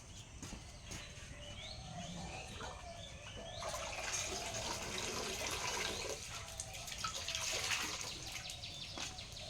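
Water runs and splashes steadily as a cotton cloth is soaked, a continuous close trickle with faint birdsong in the background.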